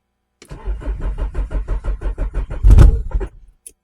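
A Renault Clio 1.8 16V cranks over with rapid, even starter pulses for about two seconds, then catches with a loud close burst and settles into a brief rumbling idle before cutting off.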